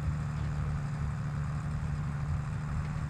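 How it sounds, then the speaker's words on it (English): Landini tractor engine idling in Farming Simulator 22, a steady low grumbling hum that holds at an even level throughout with no talking. "I kind of like the sound of this Landini."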